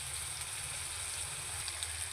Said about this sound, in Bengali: জিরা দিয়ে দিলাম, একটু গোটা জিরা।